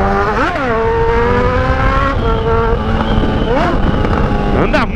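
A Honda CB1000 motorcycle revving hard, its engine pitch rising in several quick sweeps between gear changes, loud and close, with faint voices in the background.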